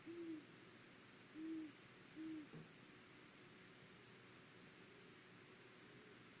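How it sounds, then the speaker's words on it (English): A recording of a great horned owl gives three faint, deep hoots in a short uneven sequence, followed by a softer trailing hoot, all set against a steady hiss of background noise. "that's the classic owl hoot that you hear."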